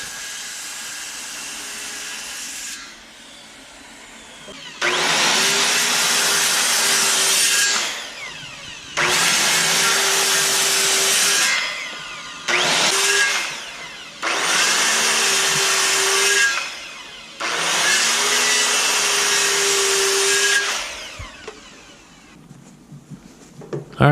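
A power saw makes repeated cutting passes through wood pieces for a mailbox. Five loud, sustained bursts of several seconds each are separated by brief gaps where the motor spins down, with no talking.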